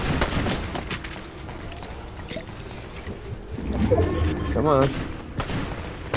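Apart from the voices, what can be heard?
gunfire from a video game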